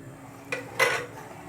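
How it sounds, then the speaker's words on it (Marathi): A spoon scrapes and clinks twice inside a kadhai while curd is stirred into egg biryani gravy, a short tap followed by a louder, longer scrape, close and otherwise quiet. "मिक्स करून घेऊ हलक्या हाताने."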